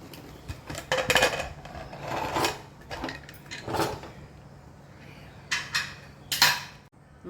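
A pressure cooker of egg biryani being opened after the steam has gone, with scattered metallic clanks and clinks of the lid and utensils, moderately close and fairly quiet.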